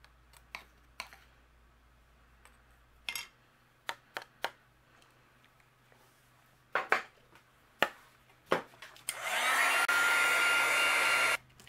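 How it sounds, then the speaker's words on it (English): Heat tool melting clear embossing powder on a stamped card panel, a loud steady blowing whoosh that starts near the end after scattered clicks and light handling taps on a desk. "I'm going to go ahead and add some clear embossing powder over it. And we'll do a little heat embossing."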